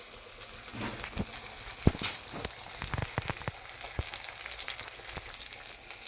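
A chapati-sized stingray fries in a pan, giving a soft continuous sizzle broken by sharp pops and spatters, fairly quiet and with no talking.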